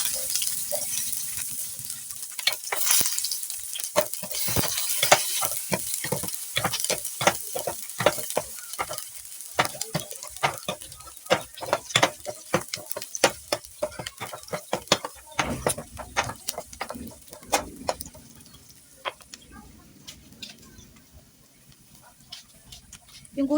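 Oil crackles in a pan as ingredients are sautéed for sinigang, with many sharp clicks and taps of stirring over a fading sizzle, close by, the strikes thinning toward the end.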